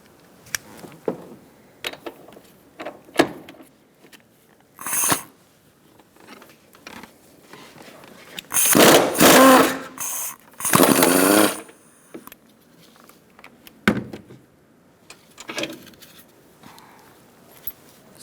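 Two short bursts of ratcheting as a 16mm socket backs out engine mount bolts on a 2012-2018 Ford Focus, surrounded by scattered metallic clinks and handling noise.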